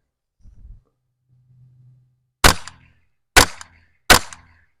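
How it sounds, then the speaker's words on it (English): Three sharp, loud cracks of a .22 long rifle fired at a log outdoors, evenly spaced about a second apart, each ringing out briefly against near silence after some faint low handling noise. "I want to try a .22 long rifle out of a rifle and see what kind of damage we get from that. I'm going to give it a couple of shots."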